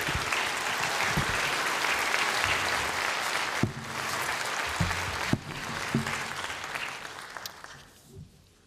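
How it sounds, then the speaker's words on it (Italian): Audience of mayors in tricolour sashes applauding at a government and Molise region signing event, a sustained, dense round of clapping from a large indoor crowd that thins out near the end, with a few knocks and thumps. "fate un bellissimo applauso perché ve lo meritate tutti"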